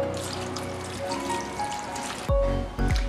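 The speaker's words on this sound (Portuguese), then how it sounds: "e depois cobrimos com água." Water pours steadily into a cooking pot over layered salt cod and potatoes, a close continuous trickling stream, then heavier gulping splashes as the flow shifts near the end.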